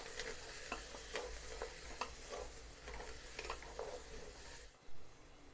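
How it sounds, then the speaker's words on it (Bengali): Taro and lentil dal with turmeric and salt is stirred in a pan, giving soft rhythmic scraping strokes over a low, steady frying hiss that stops near the end. "দিয়ে এটাকে ভালো করে নেড়ে নিব।"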